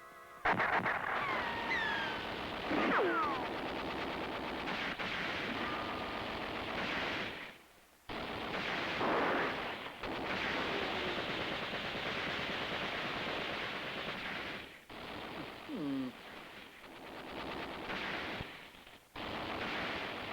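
Rapid gunfire from a squad of police in a 1960 cartoon, loud continuous bursts of shots filling most of the scene, broken by a couple of brief pauses, with no talking.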